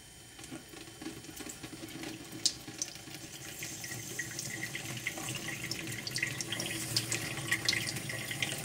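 Tap water runs steadily through a homemade DIY water filter held against the faucet, a soft continuous splashing flow with small gurgles and drips, fairly quiet and heard alone.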